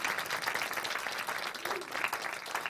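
A conference audience in Madrid claps at the close of a talk, a dense, steady round of applause held at even loudness for the whole stretch.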